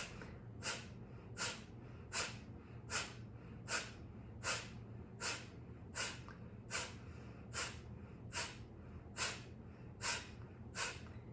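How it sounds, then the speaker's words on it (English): Forceful rhythmic exhales through the nose during a yoga breathing exercise: about fifteen sharp, evenly spaced bursts of breath roughly every three-quarters of a second, fairly close, with no talking. "Really forceful exhales. Work the diaphragm."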